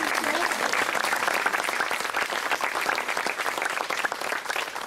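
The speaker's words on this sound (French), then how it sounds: "je crois même qu'on peut les applaudir" Sustained applause from an audience at a 50th-anniversary speech ceremony for the Coupe Annie Soisbault in Granville, a dense, steady patter of many hands lasting the whole stretch.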